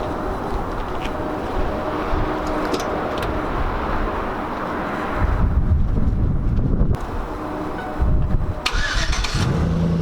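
A V8 engine in a single-cab truck cranks and fires up, then settles into a deep rumbling idle with a couple of revs, heard outdoors with some wind noise.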